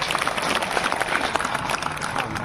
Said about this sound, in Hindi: एक बार तालियों से जोरदार